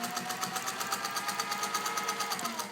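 A restored vintage Bernina 117-K sewing machine runs a long zigzag stitch. It gives a quick, even, mechanical clatter with a regular rhythm, heard close up and alone.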